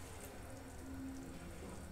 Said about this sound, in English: Then you add a little more water.